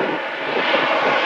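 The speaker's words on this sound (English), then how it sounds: "I've got an aircraft coming in." A small fixed-wing airplane, a skydiving aircraft, approaches with a steady, loud engine drone that holds constant throughout, with no talking.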